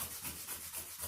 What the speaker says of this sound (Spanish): Hay que ir sacándola con la lija.